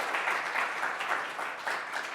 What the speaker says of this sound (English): let's just give everybody a hand and say, thank you